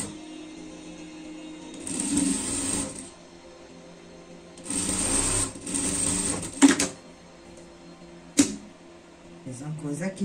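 Sewing machine stitching a seam on a bee costume for a pet, two bursts of fast mechanical whirring separated by quiet handling, with a few sharp clicks, close by.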